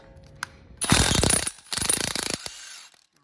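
A 13 mm 12-point socket on a ratchet backs out axle bolts during a Dana 30 axle teardown, giving two quick bursts of close, loud ratcheting clicks, each about half a second long, after a single light tap.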